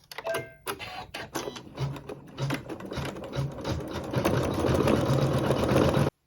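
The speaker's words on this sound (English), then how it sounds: "it'll sew the satin stitch along the edges of this fabric" A sewing machine stitches a satin stitch along the edges of fabric for Christmas decor, a close, rapid mechanical chatter that starts in short stop-start bursts and then settles into a sustained, steady run, with no voices over it.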